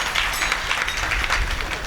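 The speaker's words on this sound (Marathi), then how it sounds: "जोरदार टाळ्या एकदा दोघांसाठी सुद्धा झाल्या पाहिजेत" A crowd at a kirtan in Patoda, Beed claps loudly for two chopdars, a steady and dense wash of applause filling the whole moment.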